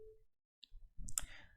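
A computer mouse clicks while working in Photoshop, a single sharp, close click that stands out briefly amid low room noise and faint handling sounds.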